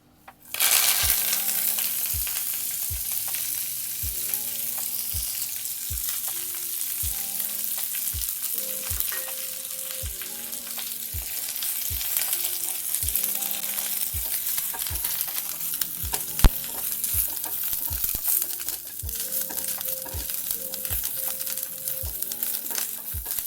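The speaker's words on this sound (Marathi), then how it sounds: "आता पातेल्यात थोडं तेल टाकून 1 चम्मच त्यावर कढीपत्ता घालून परतून घ्यायचा छान." Curry leaves fry in a spoonful of hot oil in a pot while a spoon stirs them, making a steady close sizzle with regular scraping taps about once a second throughout.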